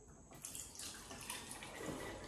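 Liquid poured through a funnel, a steady watery rush that starts after a brief quiet moment and keeps flowing at a fairly even level throughout, close by.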